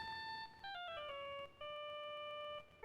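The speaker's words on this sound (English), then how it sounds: "Much more appropriate ringtone length." A cell phone ringtone in the video game Phoenix Wright: Justice for All plays as a short electronic melody of sustained tones, a few rising and falling notes repeating cleanly with no voices.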